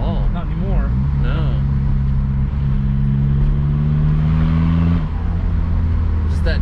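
Modified VW Jetta TDI diesel engine accelerating from inside the car, a steady rising engine drone with climbing pitch that builds for about five seconds before easing off, with people talking over it.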